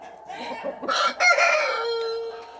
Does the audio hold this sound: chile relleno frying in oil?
no